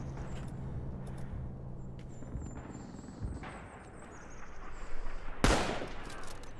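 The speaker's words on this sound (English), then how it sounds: "I just almost shot that friendly" Gunfire in a WW2 first-person shooter game, a mix of distant scattered shots under battlefield ambience with one loud, sharp close shot near the end.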